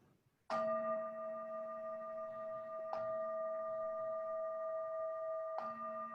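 A meditation bell rings three times, each clear strike followed by a long sustained hum that carries between strikes in an otherwise quiet room.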